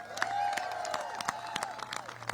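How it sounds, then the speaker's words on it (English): An audience at a political gathering claps and cheers, scattered sharp claps over a crowd murmur, with a faint tone running underneath, moderately quiet and distant. "So give yourselves a big round of applause."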